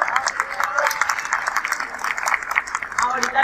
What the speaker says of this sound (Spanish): Un aplauso para Tito.